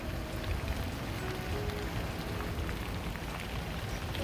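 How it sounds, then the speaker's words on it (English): Rain falls steadily and evenly on an outdoor garden, a soft continuous patter with no voices. "And the rain is coming down."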